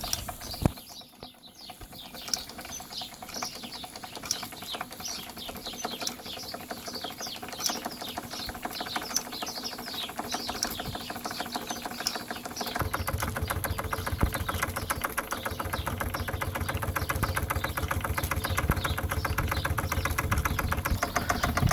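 A pre-WW2 Doll et Cie stationary toy steam engine from Nuremberg, Germany, running with its governor, generator and drive bands: a faint, rapid mechanical ticking and whirring that grows steadier and louder over time.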